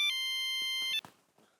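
A telephone rings in a sitcom scene, an electronic tone holding for about a second and then cutting off, followed by faint shuffling and low sounds.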